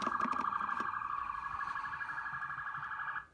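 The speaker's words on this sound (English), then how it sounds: "Sorry with all the cop sounds," A police siren played through a home theater sound system wails steadily at a moderate distance, with a few clattering knocks at the start, then cuts off abruptly.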